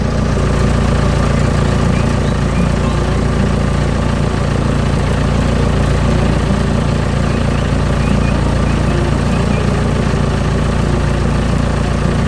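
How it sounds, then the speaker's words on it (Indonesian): A green construction machine works hard on brown farm soil in a cartoon setting, giving a steady, loud engine drone with a low idling rumble that runs unbroken throughout. "Mesin konstruksi hijau sedang bekerja keras di tanah berwarna coklat."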